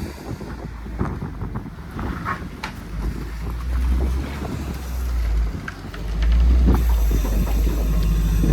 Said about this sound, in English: It's also a windy day, as usual in Idaho, so sorry about the wind.